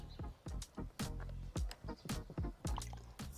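A shirt pressed down into a basin of room-temperature water to soak, making a series of close splashes, sloshes and drips in an uneven rhythm, heard on its own.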